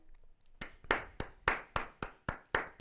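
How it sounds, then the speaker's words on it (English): A little golf clap of hands clapping, eight or so sharp, evenly spaced claps after a faint start, close and fairly soft, with no talk. "I was gonna give you like a little golf clap"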